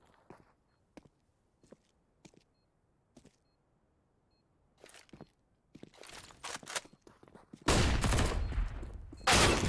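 Gunfire in a CS:GO match on Dust2, including a Desert Eagle, sounds as a few faint, isolated clicks and shots that build into louder, closer bursts and then a dense, sustained volley near the end.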